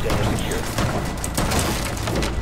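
Rapid shotgun blasts from close-quarters fighting in Rainbow Six Siege, loud and dense with booming low-end thumps, packed together with game noise and a voice talking over them.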